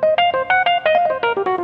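A Yamaha CP88 stage piano on its Rhodes 75 electric piano patch plays a quick, evenly rhythmic run of about a dozen bright, bell-like keyed notes, close and clear with no talking.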